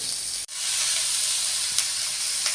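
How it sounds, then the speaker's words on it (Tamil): Chopped siru keerai greens sizzle in a hot pan with onion and tomato for a thokku, a loud, steady hiss that breaks off for an instant near the start and then carries on without a voice. "இந்த கட் பண்ணி வச்ச சிரிக்கீரையை நம்ம அதை சேர்த்துக்குவோம்"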